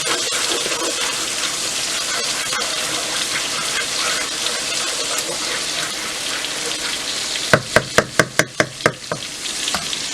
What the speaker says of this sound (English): While that is frying up a little